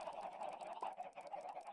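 Chickens in the Minecraft video game cluck and squawk continuously in a dense overlapping chorus, fairly quiet overall.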